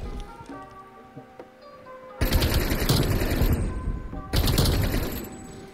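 AK47 fire in Black Ops Cold War comes in two loud sustained automatic bursts, close and rapid, standing out over quieter game background.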